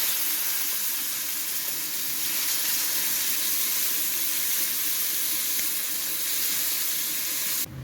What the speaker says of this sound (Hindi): ये ज़ीरा, ये डालेंगे सब्ज़ मिर्च, तो अब डालेंगे प्याज।